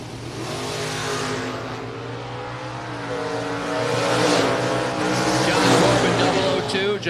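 Dragsters, a Firebird and a Cavalier, race side by side down a drag strip in round 1 of a bracket event, engines roaring loud and steady and swelling toward the end, with tire noise and a voice talking over the racket.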